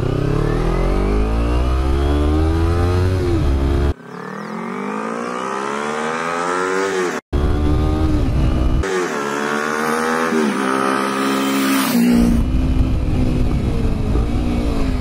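Two Kawasaki Ninja motorcycles, at least one with a loud aftermarket exhaust, rev hard together in a close, continuous roar, the pitch repeatedly climbing and dropping back with brief cuts between revs.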